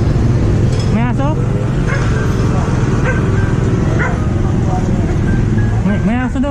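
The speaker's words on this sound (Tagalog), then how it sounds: "May aso daw eh." A dog barks and yips repeatedly outdoors, the sharp calls arriving in scattered bursts over a constant background rumble, with people talking nearby.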